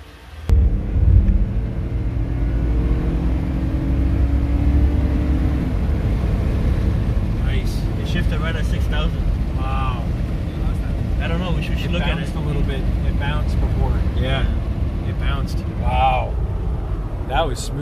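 A 2008 Toyota Highlander 4WD drives along after a transmission fluid change, a steady low engine and road rumble from inside the cabin, with people chatting over it for most of the stretch.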